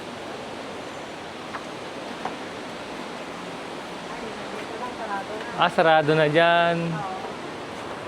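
A river stream rushes continuously in the old village of Villefranche-de-Conflent, France, a steady broadband water noise. Near the end a person speaks briefly over it.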